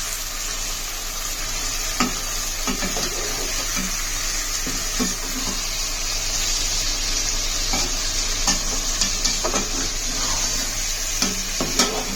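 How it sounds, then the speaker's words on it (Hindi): Chicken for tandoori chicken korma frying in a pan, a loud continuous sizzle with intermittent scraping stirs and clinks, close by and with no talking. "चिकन जो है माशाल्लाह से फ्राई हो रहा है, देखें ब्राउन भी हो रहा है"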